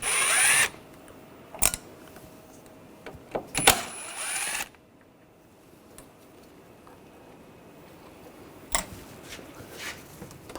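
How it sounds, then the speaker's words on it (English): A power tool driving a T25 socket to remove screws from the reservoir on a 2006-2010 BMW 550i 4.8L V8, with a loud whirring burst at the start, another around four seconds, and a few sharp clicks and clanks between quieter gaps. "Use a T25 socket, take these screws out."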